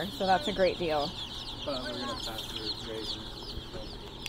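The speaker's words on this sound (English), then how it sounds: "They're all roosters." Young meat chickens, all roosters, sold ten for a dollar at a farm, cluck in a quick run of calls early on, then softer chatter continues while a person talks over them.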